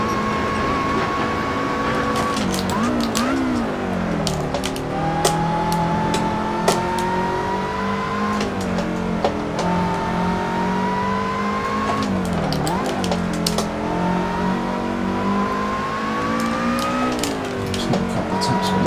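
A race car in the Assetto Corsa racing game, its engine droning and rising steadily through the gears with brief dips on shifts and occasional tire squeal, continuous and loud with no talking.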